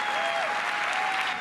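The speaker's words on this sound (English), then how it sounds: "People are applauding." An audience at an Apple keynote breaks into a short burst of steady, dense applause filling a large hall.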